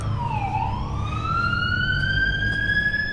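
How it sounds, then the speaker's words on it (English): A police car drives by on a street in Toronto's East Chinatown, its siren wailing clearly, dipping and then climbing in pitch over a low rumble of traffic. "Here's the police driving by."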